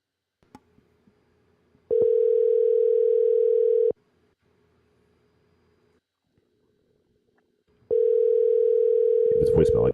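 A phone line on an outgoing call: two long steady ringback tones separated by a few seconds of near silence, with soft clicks before and a louder noise at the very end.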